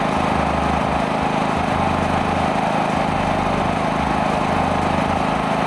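An AL-KO power generator runs under rated load during a noise level test, heard from about seven metres away as a steady, continuous engine drone with a low hum and no pauses or voices.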